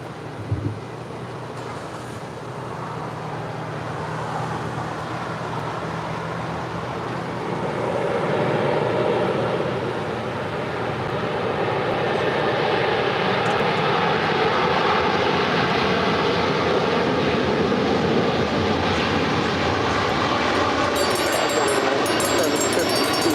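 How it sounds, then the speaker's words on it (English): Airliner touching down and rolling out on runway 25 left at LAX, a broad steady roar of engines and rushing air that swells and holds loud and close for the full stretch. "Beautiful landing there on 25 left."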